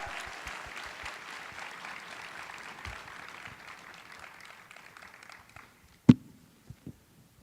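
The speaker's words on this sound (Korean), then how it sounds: "환영의 박수 한번 해주시기 바랍니다" An audience at a Sunday church service applauds to welcome a guest speaker to the front: steady, close clapping that fills the room for about five seconds, then fades into a few scattered, isolated claps.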